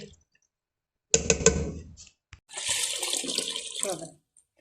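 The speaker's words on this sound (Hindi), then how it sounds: "पानी अभी थोड़ा थोड़ा और डालूंगी" Water poured from a vessel into a pot of beef paya cooking for broth, two short splashing pours separated by a pause, close and moderately loud in a quiet kitchen.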